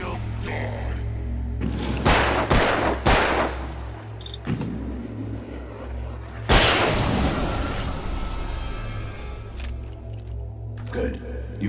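Loud gunshots from the Alan Wake video game ring out in a few sharp bursts, with heavy booming impacts over a low droning background and a steady rumble.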